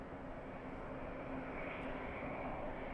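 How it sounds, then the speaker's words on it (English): Four-engine quad jets taxiing at LAX airport, a steady distant broadband jet rumble and whine that holds evenly throughout with no voices. "Two legendary quad jets taxiing in front of LA flights right now."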